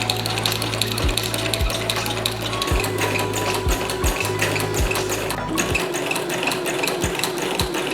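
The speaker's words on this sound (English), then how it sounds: "sewing faux leather into a little jacket out of this old skirt a friend gave me" A sewing machine stitches faux leather for a small doll jacket cut from an old skirt, running in quick mechanical bursts with short pauses between them, loud and close with a rattling, ratcheting rhythm.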